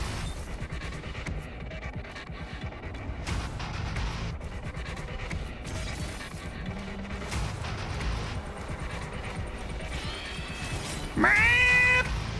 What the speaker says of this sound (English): Sound like cats.